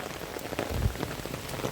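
Heavy rain pours down hard and steady during a thunderstorm, a dense, close hiss of drops drumming on surfaces with a brief low rumble partway through, no voices.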